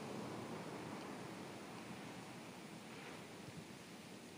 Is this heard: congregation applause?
no